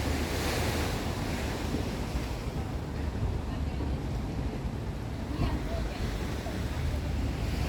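Surf rolls steadily onto a seaside beach, a continuous wash of breaking waves mixed with gusty wind buffeting the microphone, with no clear voices over it.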